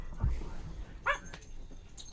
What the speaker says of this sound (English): man, my dog's going nuts